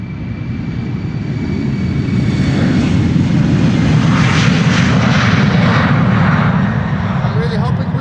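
A KLM Embraer 190 jet takes off at Amsterdam Schiphol Airport, its engine roar loud, close and steady as it builds and holds for the whole stretch.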